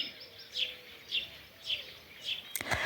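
Faint, high morning bird chirps repeat at a steady pace against a quiet outdoor background, ending with a few sharper, brighter notes.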